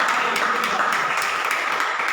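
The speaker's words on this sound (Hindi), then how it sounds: "ताली बजाओ जो।" A church congregation clapping their hands during a sermon, a steady dense wash of many hands that holds an even, fairly loud level throughout with no voices on top.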